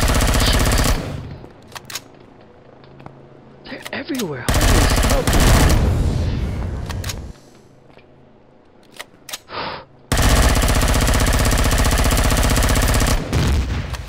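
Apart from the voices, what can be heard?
large cannons firing in video game Empyrion Galactic Survival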